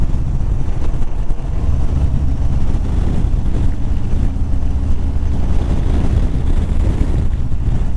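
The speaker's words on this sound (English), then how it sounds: "the wind's pretty damn bad today." Strong wind buffeting a microphone outdoors, a loud continuous low roar and rumble that fills the whole stretch.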